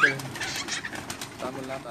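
Pigeons bred from Pakistani master fanciers' eggs, on a rooftop loft in Jeddah, make soft cooing and bird calls that run steadily through, close and moderately loud, with faint background noise.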